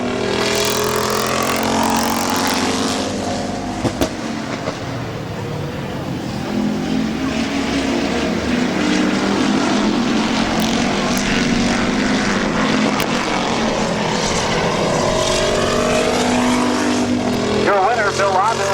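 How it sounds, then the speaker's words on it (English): Race cars roar around the oval at Midvale Speedway on the final lap, a loud continuous engine drone with passing swells and Doppler sweeps, under a track announcer's commentary. "As we come to the white flag this time, 1 to go for Bill Abel"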